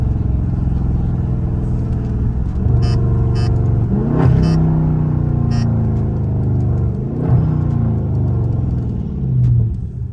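A Dodge Charger Scat Pack engine roars and revs while accelerating at night, exhaust heard through an open back window, its pitch climbing and falling through several surges, loud and close with a steady rumble underneath.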